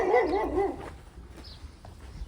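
A dog gives a short burst of barks at the start, loud and close, then fades into quieter background noise.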